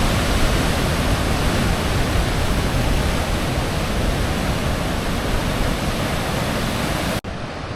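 Ocean surf pumping on a Maui shore makes a dense, steady roar of breaking waves, loud and continuous, cutting off abruptly just before the end.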